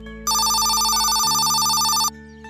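A telephone rings indoors with a loud electronic trilling tone lasting nearly two seconds, then cuts off, leaving a faint background hum.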